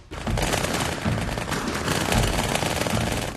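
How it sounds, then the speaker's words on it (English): Dual-wielded automatic guns in Halo 2 fire in a loud, continuous rapid burst that lasts about three seconds, with dense overlapping shots and no voices. "So you walk around with these two bullet hoses."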